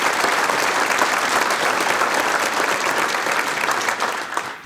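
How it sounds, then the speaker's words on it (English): An audience at the Kiwanis of Indianapolis Abe Lincoln Awards Program applauds, a dense, steady wash of clapping from a large crowd that sustains for several seconds and tapers slightly at the end. "So can we just give a round of applause for that?"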